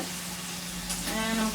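Sausages for jambalaya sizzle steadily in a hot pan, a constant close crackle with a brief louder stir near the end.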